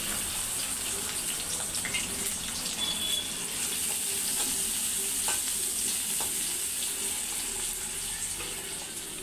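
Onion frying in a pan hisses in a steady close sizzle throughout, with light stirring scrapes and a watery, tap-like hiss underneath, while a lunch of jolad rotti is being cooked.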